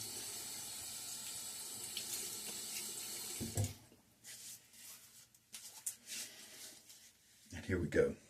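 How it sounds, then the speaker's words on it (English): Water from a bathroom sink tap runs steadily, then stops, followed by scattered splashes as water is cupped and splashed onto a face, ending with a closer burst of splashing. "splash some water on my face."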